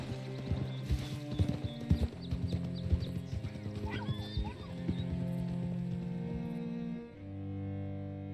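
Horse hooves clip-clop in the Red Dead Redemption 2 video game, a busy run of hoofbeats with a brief whinny, trailing into a steady held tone near the end.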